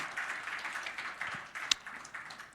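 Church congregation applauding to welcome an elderly member attending Sunday worship, a soft, steady patter of many hands with one sharp louder clap standing out near the end.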